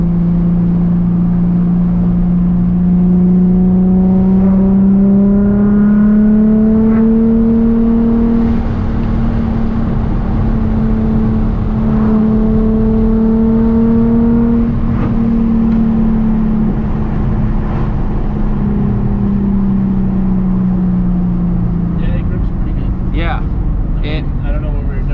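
A Nissan 350Z HR fitted with a Tomei exhaust drives along, its engine droning loudly and steadily with pitch rising and easing as it accelerates and shifts, and a voice talks over it throughout.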